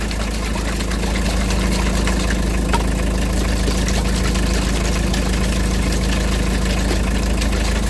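A Volkswagen Combi T3 engine idles while warming up, a loud, steady low rumble with an even mechanical chatter that holds unchanged from start to finish, close by and alone.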